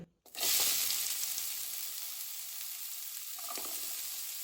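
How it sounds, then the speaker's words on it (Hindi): Onions hit hot oil for Goan dry prawns with a sudden loud sizzle that settles into a steady, close frying hiss, with occasional crackles. "तेल गरम हो चुका है, अभी हम इसमें डालेंगे ओनियन।"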